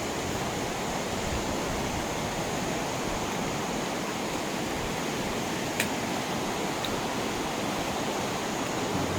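The Chameliya river on the trek toward Api Base Camp flows in a dense, constant roar like surf, loud and unbroken, with a brief click near the middle and no talk.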